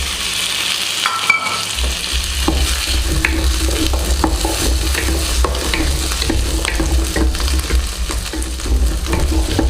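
Onion, garlic and ginger sautéing in a pan for Chettinad chicken gravy, a continuous close sizzle with frequent scraping stir strokes and small clicks, no talking.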